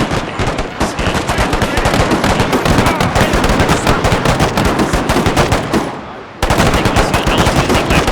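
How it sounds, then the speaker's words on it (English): Rapid machine-gun bursts from a Gatling gun mixed with heavy gun blasts in the video game Total FotS, loud and continuous, with a brief dip near the end before the dense firing resumes. "you have to see that the Gatling gun is in a good position, but otherwise you start firing with the heavy guns"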